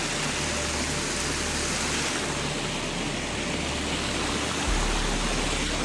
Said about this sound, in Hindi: सारा झरना जा रहा है नीचे, वो अभी वाटर क्रॉसिंग पार की है।